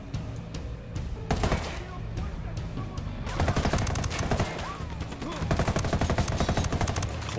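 Gunfire rattles through a Ghost Recon Wildlands firefight, starting as scattered single shots and then building into sustained rapid bursts in the second half, loud and close, with only occasional vocal sounds.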